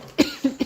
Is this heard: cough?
yes